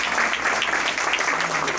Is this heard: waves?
no